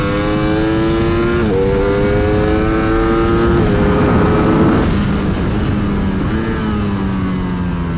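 A Ducati Streetfighter V4S screams hard out of a corner on a race track, loud close engine climbing in pitch through several gear changes, each shift dropping the tone before it winds up again, with no voices.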